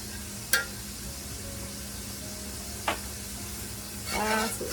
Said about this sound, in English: let's put a little more butter in here